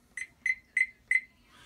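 Four quick, evenly spaced piercing beeps from a Thermoworks Chef Alarm kitchen thermometer alarm, loud and close in a quiet room, with no voices.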